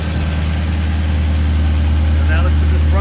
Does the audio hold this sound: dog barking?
no